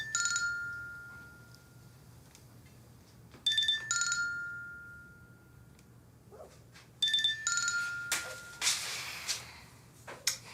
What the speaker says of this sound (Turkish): Arayan da Kerem'di.